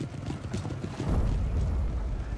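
Rhythmic hoofbeats of horses trotting in the video game Napoleon: Total War, a steady clip-clop that thickens into a heavier rumble of many Swedish cavalry riders partway through, with no voices.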